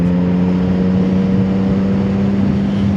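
A CFMOTO 675ss motorcycle engine hums steadily while being ridden, a loud, close, constant drone with wind rush and no talking.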